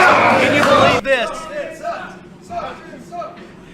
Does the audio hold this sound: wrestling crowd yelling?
yes